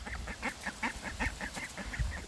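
Ducks at a pond quack in a quick, steady run of about a dozen nasal calls, fairly close, over a low rumbling background.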